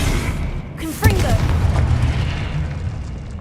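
A deep explosive boom from a Confringo spell in the Hogwarts Legacy game, a sharp burst followed by a rumbling, sustained crackle amid busy combat sounds and brief voice.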